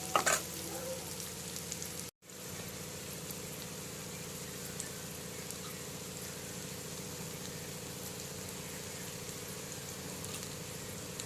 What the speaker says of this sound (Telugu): ఇట్లా మంచిగా వేగిపోయింది చూడండి ముక్కలన్నీ